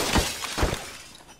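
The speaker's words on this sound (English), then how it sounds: "that window just got blown out" Window glass shatters in the shooter game Escape from Tarkov, two quick sharp breaking bursts close together followed by a fading tinkle of debris, loud and with no talk over it.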